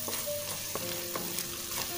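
Onion-tomato paste with turmeric and coriander powder sautés in oil for egg curry, a steady close sizzle and fry with a few light stirring scrapes of the spoon, no voices.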